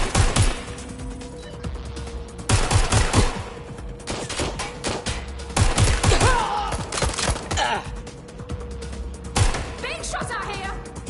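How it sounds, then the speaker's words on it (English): Bursts of gunfire fill a PS4 video game, rapid loud cracks and volleys repeating in clusters over about eleven seconds, close and dense, with game voices and other effects mixed in. "Being shot at here."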